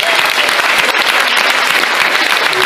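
Loud, sustained applause from a crowd at a vodka collectors' meeting as an executive is welcomed to the stage, dense clapping filling the whole stretch with a faint voice briefly under it.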